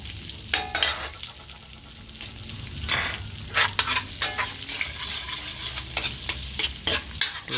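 Garlic sautés in butter in a pan as pork caldereta gets underway, a steady close sizzle broken by repeated scraping stir strokes and no talking.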